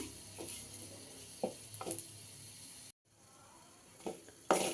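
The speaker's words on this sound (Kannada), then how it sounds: "ಸೊ ನಿಧಾನವಾಗಿ ಲೋ ಫ್ಲೇಮಲ್ಲಿ ಇಟ್ಕೊಂಡು ಫ್ರೈ ಮಾಡಬೇಕಿದ್ನ." Curry leaves fry slowly in oil over a low flame, making a faint, soft sizzle with occasional stirring scrapes close by, and no one speaking.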